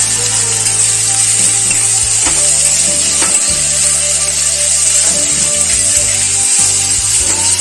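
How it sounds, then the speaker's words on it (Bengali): Chopped onions frying in a pan while being cooked until reddish for chicken bhuna, a steady close sizzle throughout with intermittent scraping and stirring noises, no talking. "পেঁয়াজটা ভালো করে ভাজা হয়ে গেছে"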